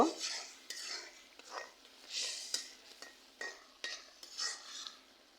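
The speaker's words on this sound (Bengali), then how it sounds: "এখানে যে আমি ভালোভাবে চিংড়ি মাছগুলো কষিয়ে নিব।" Prawns being stirred and sautéed in a pan on a clay stove, with repeated short scraping strokes of a spatula and soft clinks in an uneven rhythm, close and moderately quiet, no talking.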